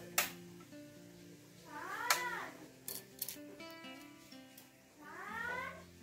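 A house cat gives a few drawn-out meows, spaced apart and fairly close, over quiet background with faint clicks and no speech.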